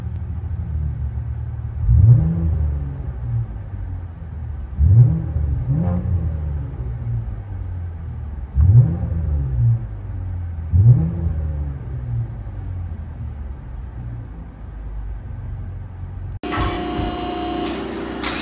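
A 2015 Chevy Impala V6 with dual exhaust and straight pipes revs four times in a row, each blip a deep rising rumble that falls back to idle, before an abrupt louder burst at the end.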